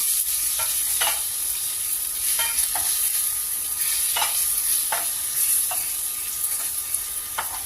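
Curry leaves and asafoetida sizzling in hot oil: a continuous bright hiss of frying with intermittent crackling pops and spatters, close by and without speech.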